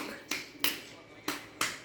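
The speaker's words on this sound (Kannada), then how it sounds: "ಚಪ್ಪಾಳೆ ತಟ್ಟು" A small child claps hands four times at uneven intervals. The claps are sharp, quiet and close, with soft room noise in the pauses between them.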